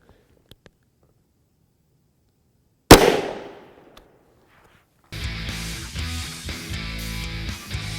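A single sharp 9mm gunshot from a 7.72 inch barrel firing a 135gr Federal Hydra-Shok JHP into a ballistic gel block, a loud crack that decays quickly, followed by a burst of steady wind-like noise.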